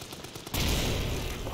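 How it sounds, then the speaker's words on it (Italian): A grenade goes off in the horror game Amnesia: The Bunker, set in a WWI bunker. After a short quiet stretch it bursts into a loud, broad roar that lingers and slowly fades over the next second. "Tirato la granata."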